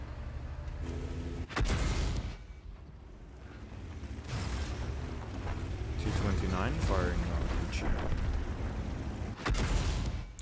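Heavy tank cannon firing high-explosive shells in a tank battle video game, with loud booming shots near the start and again near the end, amid steady engine rumble and game noise, with someone talking over it.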